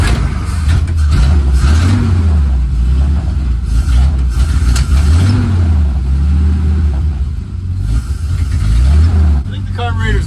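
The engine of a long-abandoned 1948 Dodge Power Wagon is being driven in low range. It gives a loud, close, throaty drone that swells and fades in repeated revs, with a voice talking over the engine noise.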